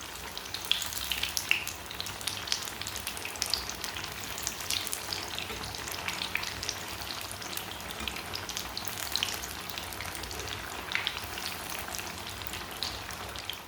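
Potato tikki (aloo tikiyan) shallow-frying in a pan, a continuous soft crackling sizzle with fine spattering pops, steady and fairly quiet throughout, no voices.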